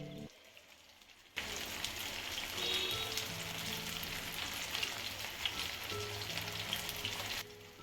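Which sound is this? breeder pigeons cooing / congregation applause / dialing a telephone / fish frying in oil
fish frying in oil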